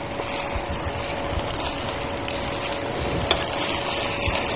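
An egg roll with flying fish roe cooks in a pan, giving a steady, soft sizzle throughout with a faint constant hum beneath and no speech.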